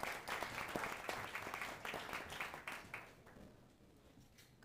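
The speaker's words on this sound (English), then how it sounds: "please give them a round of applause" Sustained audience applause fills a conference hall at a political speakeasy event, with a dense wash of clapping from many hands that gradually thins and fades toward the end.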